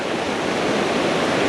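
A waterfall along the Chimney Tops hike in the Great Smoky Mountains roars in a loud, constant broadband rush, close by, with no talking.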